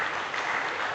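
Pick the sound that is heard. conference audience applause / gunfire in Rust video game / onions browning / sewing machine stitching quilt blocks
conference audience applause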